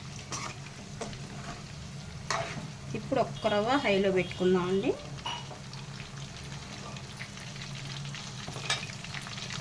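Oil sizzles and crackles steadily as chicken fries, loud and close, while a person speaks briefly partway through.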